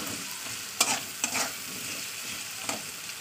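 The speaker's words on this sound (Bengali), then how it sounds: "এবার আমি ভালো করে এই মশলার সঙ্গে তেলটা আর আলুটাকে কষিয়ে নেবো" Potatoes sauté in oil with spices, a soft continuous sizzle broken by a few sharp spatula scrapes and stirs against the pan, close and without speech.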